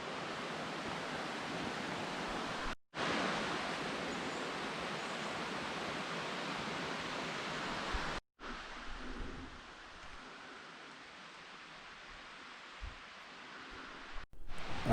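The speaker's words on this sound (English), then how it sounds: "I can hear the sound of the waterfall getting more louder" A waterfall along a North Carolina mountain hiking trail, heard as a steady broadband roar of rushing water that fills the whole stretch, broken only by a few abrupt dropouts.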